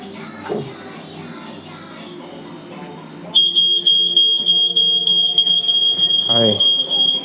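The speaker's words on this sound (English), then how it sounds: "Testing your smoke alarm." A residential smoke alarm tested by a fire inspector in Toronto emits rapid, piercing, evenly spaced beeps. People talk quietly first, then the shrill alarm starts abruptly and keeps sounding loud and close.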